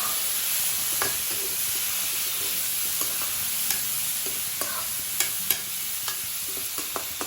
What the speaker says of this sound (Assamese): দি পেলাই আমি ভালকৈ অলপ ভাজি ল'ম